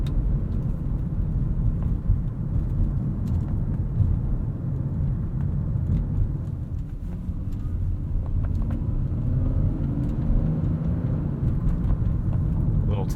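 Inside a 2003 Lexus GS 300 on the move, its 2JZ engine gives a steady low, muffled drone under road rumble, quiet and continuous, with a slight rise in pitch toward the end.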